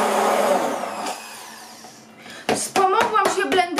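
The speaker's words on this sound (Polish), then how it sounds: "Wspomogłam się blenderem, bo mój ser miał grudki" An electric blender roars loudly for a couple of seconds while smoothing lumpy cheese for a strawberry no-bake cake, then winds down, followed by someone speaking close by.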